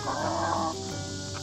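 A black copper Marans hen clucks softly and steadily at close range, with a low continuous hum underneath and no talking.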